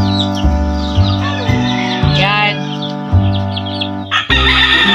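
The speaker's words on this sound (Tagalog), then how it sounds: "Yan yung mga manok namin dito." Roosters crow loudly and close in a backyard, with chickens clucking and small birds chirping around them against a steady hum.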